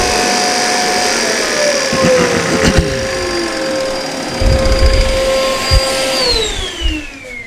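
Power disc sander working a wooden pyrography Scrabble sign, a loud steady whine with sliding pitch as the disc slows, plus bursts of rough grinding contact.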